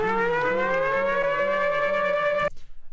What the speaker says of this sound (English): Still Fly Siren. Yeah, it's also for the Boy Wonder kit